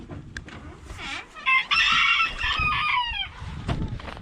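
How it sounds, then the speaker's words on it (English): Chickens crowded in the corner of a chicken house, clucking and squawking close by, with a loud rising burst of cackling in the middle amid scattered shuffling. "here's a shot of some of my chickens. They're all crowded in the corner."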